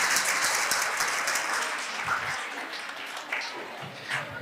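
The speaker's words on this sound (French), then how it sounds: "Je vous demande de l'applaudir." An audience applauds at a school quiz contest event, steady clapping at a moderate distance that slowly thins out, with some voices mixed in.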